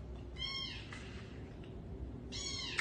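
A small kitten meows twice, faint and some distance off, each call drawn out, with a pause between them over a steady low background noise.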